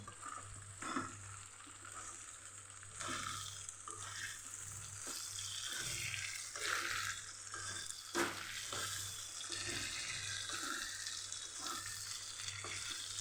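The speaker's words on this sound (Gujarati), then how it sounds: "હવે ભીંડાને પણ સરસ આપણે મિક્સ કરી દઈશું" Okra and potatoes frying in a pan for a Kathiyawadi-style vegetable dish are stirred with steady scraping strokes over a continuous close sizzle, with a low hum underneath.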